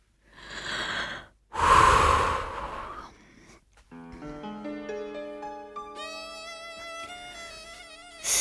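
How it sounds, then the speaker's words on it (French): Close, loud breath sounds during a rest pause in an adapted gymnastics session, a heavy exhale and a deep breath in, followed by sustained tonal sounds with a rising pitch; no speech. "soufflez. Et inspirez lentement et profondément pendant les pauses."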